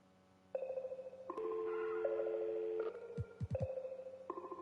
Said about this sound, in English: Hey, dial tone.